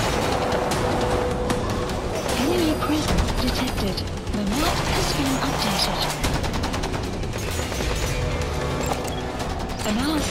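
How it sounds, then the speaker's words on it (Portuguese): Enemy gunfire in Metal Gear Solid V: The Phantom Pain, with rapid bursts and scattered shots cracking steadily through the whole stretch over game ambience, while someone talks along the way. "Eu tô vendo eles atirar, mas não tô vendo onde é que é."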